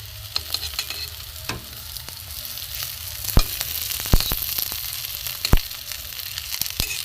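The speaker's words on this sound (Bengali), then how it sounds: "হালকা তেলে ভাজা হচ্ছে" Bitter gourd and shrimp kebabs frying in a little oil, a steady sizzle with sharp scraping stirs and clicks of a utensil against the pan at irregular moments.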